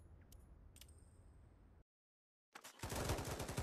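Gunfire in the VR shooter Pavlov's Shack gun game mode: faint distant shots early on, a brief dead silence, then a loud, dense burst of rapid automatic fire up close, with no talking.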